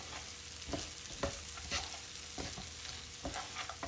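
Soft sizzling of chopped walnuts and rice sautéing in a pan with repeated scraping stirs at an uneven rhythm, close and fairly quiet.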